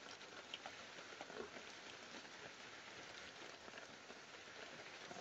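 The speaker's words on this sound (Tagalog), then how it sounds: "Medyo maulan talaga." Steady rain falls outdoors in an even, continuous hiss with a faint patter of drops on surfaces, fairly soft and unbroken throughout, with no voices.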